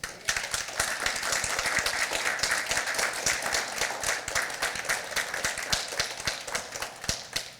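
A church congregation at an Easter Holy Week service claps together, a dense and steady round of applause that goes on for several seconds, with no voices over it.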